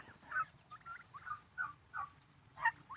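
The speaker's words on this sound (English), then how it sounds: "we have chickens in there that apparently don't want to come out" Chickens in a garden coop give a run of short, quiet clucking calls, about six bursts spaced irregularly over a few seconds, faint against a low background.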